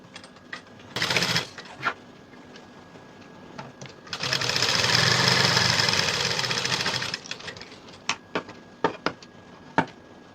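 A sewing machine stitches darts on a high-neck blouse in one loud, close, steady run of about three seconds, preceded by a short burst and followed by light taps and clicks.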